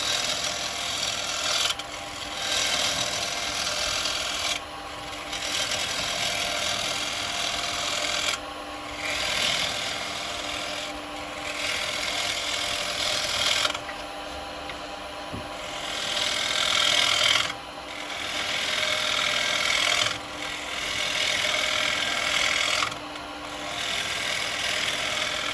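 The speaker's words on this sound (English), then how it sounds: "Just using it for a shear cut at the moment, getting nice shavings coming off" A wood lathe spins steadily while a turning tool makes a continuous shear cut on a bowl, a sustained rasping hiss of shavings peeling off that swells and dips as the tool moves.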